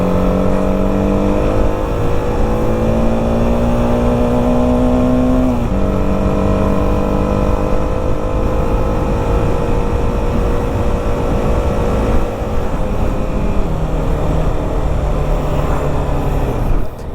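A BMW G 310 RR motorcycle rides through curves on a road, its engine loud and close with a continuous drone and shifting revs as gears change, wind rushing past.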